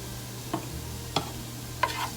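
A spoon stirs Italian seasoning into a pot of chicken and dumplings, with three distinct clinks against the pot over a soft low simmer.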